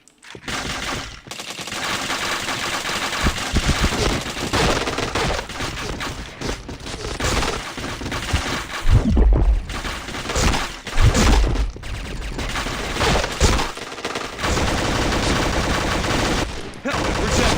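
Gunfire in a shooter video game, loud continuous bursts of automatic fire with brief gaps and a few heavier thuds, sustained throughout at close range.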